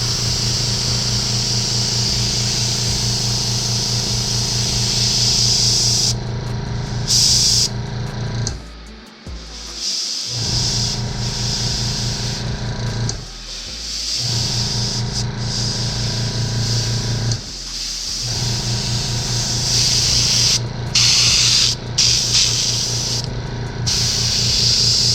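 An Iwata Eclipse airbrush sprays opaque black paint, giving a loud, close, steady hiss that cuts out briefly several times between short bursts, with a constant compressor hum beneath.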